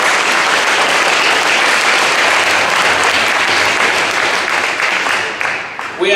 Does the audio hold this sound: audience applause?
yes